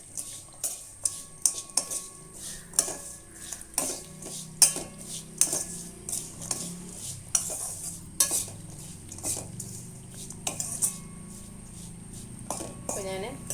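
A spoon stirs chopped ripe mango into a curry mixture in a metal pan, for an Onam meal. Close, irregular clinks and scrapes of utensil against the pot repeat throughout, over a faint sizzle.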